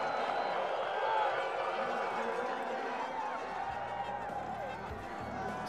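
Steady crowd roar and cheering in the stands at the Olympic men's moguls freestyle skiing final, loud and continuous throughout, with faint low rumble underneath.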